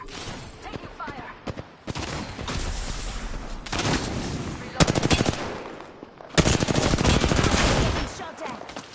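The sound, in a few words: gunfire in the video game Apex Legends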